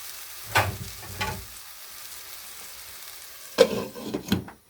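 Chicken sautéing in a pot for misua soup with patola, a soft steady sizzle underneath with a few louder clattering stirs and scrapes near the start and end.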